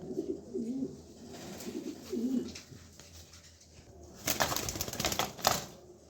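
Male pigeon cooing softly in two short rolling coos up close, followed by scuffling and a burst of faint rattling noise, with no talk.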